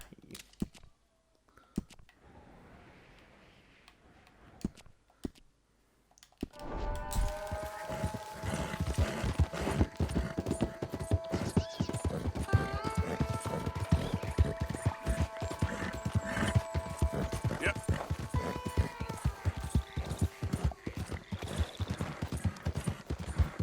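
Horse hooves clip-clop steadily in Red Dead Redemption 2 after a quieter opening, a continuous galloping rhythm layered with game music tones, close and fairly loud.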